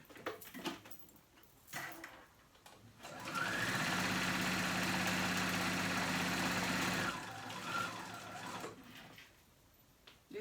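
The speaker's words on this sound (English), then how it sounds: "Now I'm going to go around and sew with my sewing machine a straight stitch all the way around my rectangle" A sewing machine runs a straight stitch steadily in a continuous burst of several seconds around a fabric rectangle, with quieter handling sounds before and after.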